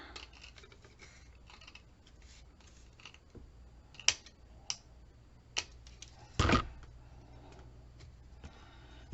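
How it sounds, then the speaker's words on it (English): Scissors snip a thin sliver from a sheet of paper for album decorating, with faint small ticks and clicks, a couple of brief sharper cuts and one louder rustling burst, all close and quiet. "I'm going to eyeball it and cut a sliver"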